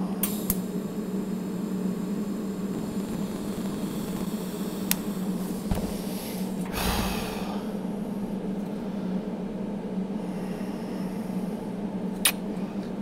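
Stainless steel is welded at 30 amps with no filler rod, producing a steady, even electric hum and hiss that holds for the full stretch, with a few faint clicks and a soft rustle partway through.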